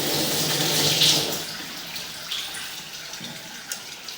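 Water running from a tap during a sewer camera inspection at a house in Cincinnati, a steady broadband rush that swells early on, then fades lower and thinner as the flow is shut off.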